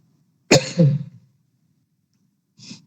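A person with a cold gives a single loud, harsh cough close by during a Telugu Bible study talk, followed after a pause by a faint short throat-clearing sound over quiet background.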